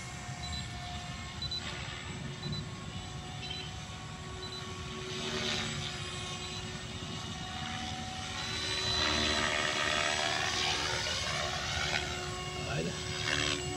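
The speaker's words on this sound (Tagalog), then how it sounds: "Nawawala yung helicopter pag nasa building eh." An SAB radio-controlled model helicopter flies over an open university field, its steady rotor and motor whine continuing throughout and growing somewhat louder toward the end.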